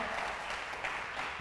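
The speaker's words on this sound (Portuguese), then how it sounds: "Dá um aplauso a Jesus aí." Brief burst of church congregation applause, a dense steady patter of many hands clapping throughout, fairly loud and close, with no voices over it.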